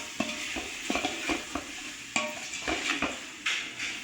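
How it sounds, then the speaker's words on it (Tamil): A spoon scrapes and stirs chicken and rice in a pot for homemade biryani, with repeated uneven strokes clanking against the metal over a soft, continuous sizzle and no talking. "நல்லா கிளறி விடுங்க."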